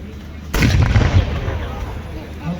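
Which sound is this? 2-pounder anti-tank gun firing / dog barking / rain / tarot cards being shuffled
2-pounder anti-tank gun firing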